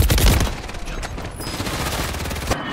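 Sustained gunfire in the Warzone video game, a dense rattle of shots that starts loud and sharp, then settles into a steady stream of rapid cracks.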